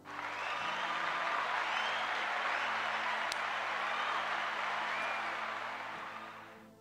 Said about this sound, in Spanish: Dale otro aplauso al Padre.